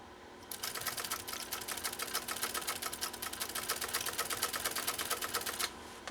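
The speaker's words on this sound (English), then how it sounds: "we'll see how Sandra's machine does sewing a zigzag down the middle of this other field of stitches" A Pfaff 130-6 sewing machine stitches a zigzag through vegan-style leather in a brisk, evenly spaced run of sharp needle strikes lasting about five seconds, close up with little else around it.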